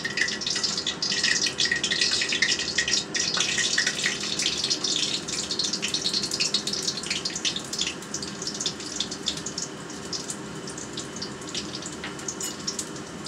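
Cumin seeds and two bay leaves hit hot oil, giving a steady, fairly loud crackling sizzle with bright popping spatters that continues without pause and eases off slightly toward the end.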